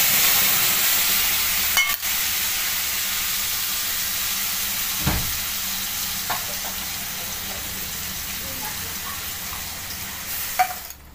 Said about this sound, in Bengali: এবারে মশলাটা আমি তেলের উপর দিয়ে দেবো।